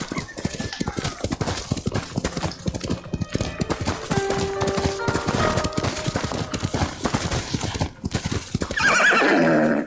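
A horse gallops steadily in the video game Ghost of Tsushima, with rapid, continuous hoofbeats up close, then a loud whinny near the end.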